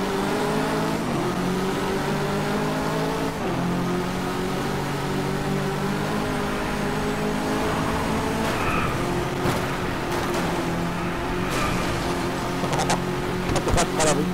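A race car engine in the Driveclub racing game drones and revs steadily throughout, with tire squeal and skidding toward the end, while a person talks over it.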